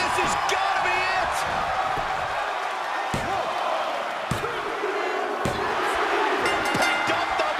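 A video game arena crowd in WWE 2K23 during a women's wrestling match, a steady loud roar of noise with several sharp ring slams and a commentator talking over it.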